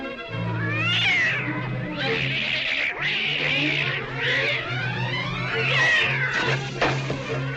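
A cat yowls and meows in long, rising and falling wails, several drawn-out cries in close succession, loud and near with no talk.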